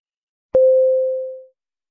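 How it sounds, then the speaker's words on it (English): A single clean electronic ding sounds once, a pure bell-like tone that rings and fades over about a second against silence. "after the ding sound"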